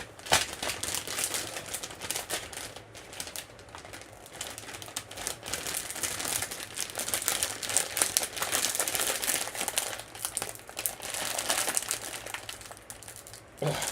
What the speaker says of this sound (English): These plastic bags are robust.